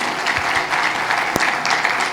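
A church congregation claps loudly during a sermon, a brief burst of dense, even applause close by with one sharper slap near the middle.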